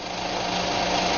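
A 1971 Arctic Cat snowmobile engine runs at a steady, buzzing drone, close and even throughout.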